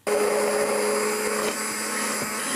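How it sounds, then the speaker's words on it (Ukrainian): A blender whirs loudly and steadily while making mayonnaise, then its pitch drops slightly partway through as the mixture thickens; no voices. "Беру блендер. І далі все перемішую до помітної густоти."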